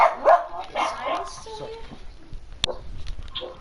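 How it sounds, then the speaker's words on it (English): A dog barks and yips in the background of a home setting during a game tournament session, mixed in with people talking and a sharp click partway through. "apologies for the dog."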